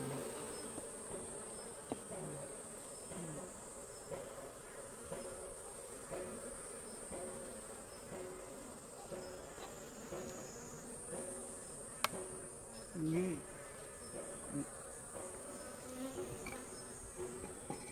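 Honeybees buzz steadily around a beehive in a Korean apiary, a dense continuous drone at moderate level with no talk, the hum shifting slightly in pitch partway through.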